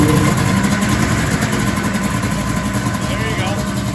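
A Ski-Doo 700 triple snowmobile engine runs on all three cylinders with a steady, loud, close buzzing idle and rapid even pulsing.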